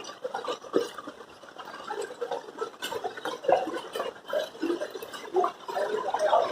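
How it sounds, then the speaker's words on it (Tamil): Knee-deep floodwater in a Nalasopara street in Mumbai churns and splashes steadily as vans and cars push through it, a continuous moderately loud wash with uneven surges and no voices. "எப்படி இருக்கு தண்ணி? கடல் அலை மாதிரி வருதா பாருங்கள்."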